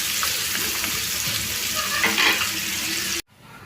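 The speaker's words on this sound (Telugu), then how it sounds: "ఈ తాలింపులోనే మనకి ఒక 2 నిమిషాలు ఫ్రై చేసుకోవాలండి" Tempering spices (tadka) frying in a pan for ridge gourd methallu give a loud, steady sizzle with light stirring scrapes, then cut off abruptly near the end.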